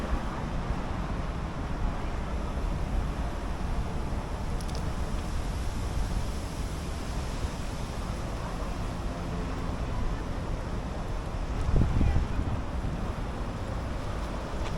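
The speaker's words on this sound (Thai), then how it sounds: "วันนี้ ลมแรงมาก" Strong wind blowing across an open microphone in Hibiya Park, Tokyo, near Ginza: a steady, loud rumbling roar through the whole stretch, with a brief heavier gust near the end and no talk.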